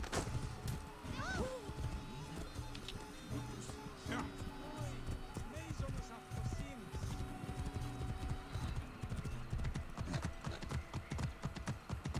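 Horse hooves gallop in Assassin's Creed Origins, a continuous fast drumming of footfalls through a busy town, with a voice talking over it much of the time.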